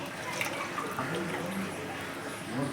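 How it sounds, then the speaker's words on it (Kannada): Water is added to a pot of khichdi, a steady broadband trickling pour running close and fairly loud for the whole moment with no pause. "ಸ್ವಲ್ಪ ನೀರು ಆ್ಯಡ್ ಮಾಡಿ ಫ್ರೆಂಡ್ಸ್"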